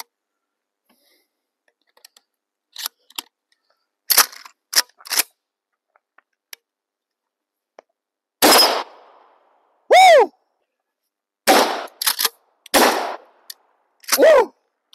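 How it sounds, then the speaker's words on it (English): A firearm fires at an outdoor shooting range, with isolated sharp shots and clicks of handling early on, then a string of louder close reports with echoing tails spaced a second or so apart. "Fires every single time I pull the trigger."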